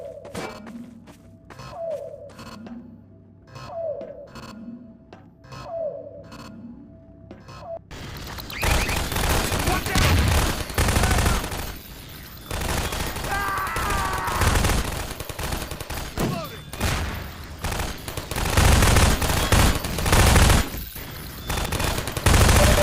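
Automated gun turrets firing in Half-Life 2 during a tunnel breach defense, loud sustained bursts of rapid gunfire with booms and impacts filling most of the clip, after a quieter opening of rhythmic mechanical thumps.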